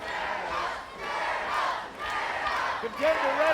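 Crowd cheering and roaring at an American Gladiators event, a loud swelling mass of voices rising and falling in waves, with a few sharper shouts near the end.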